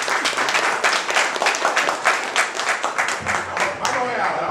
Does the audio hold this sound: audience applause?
yes